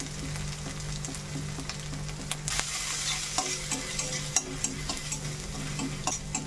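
Ginger, a dried red chili and a pinch of asafoetida frying in oil in a pan, a steady close sizzle with light stirring scrapes and a few sharper clinks, no talking.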